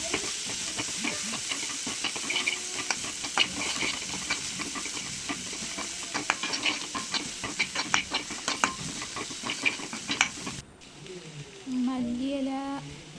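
Two onions frying and being stirred in a pan until browned for a Kerala-style clam roast, with a steady sizzle under repeated scraping and stirring clicks that ends in a quieter, bubbling stretch.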